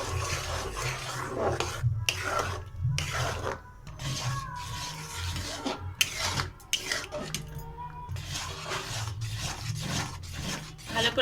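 Chana dal sandesh mixture being stirred and rubbed against a pan to dry it out, a steady scraping rasp with rhythmic strokes and brief pauses, close and moderately loud, no talk.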